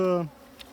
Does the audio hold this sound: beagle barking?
no